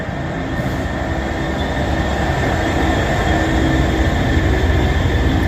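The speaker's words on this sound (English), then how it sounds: "So there is Freightliner 66412." A Freightliner class 66 diesel freight train passes at Rugby on the West Coast Main Line, a loud, steady, continuous rumble and roar with no voices.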